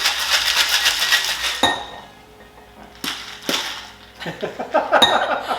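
A Manhattan cocktail pours into a chilled coupe glass with clinks and splashes, stopping and starting over a few seconds, close up and fairly loud.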